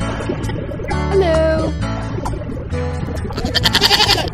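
A goat bleats in a children's animal song: close, loud, quavering bleats over a musical backing, ending in a rapid, trembling burst.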